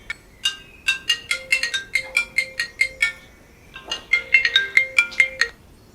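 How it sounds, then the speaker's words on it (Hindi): A bright, melodic phone ringtone plays close by, a tinkling repeated phrase of chiming notes that pauses briefly and starts again. "फोन आ गया।"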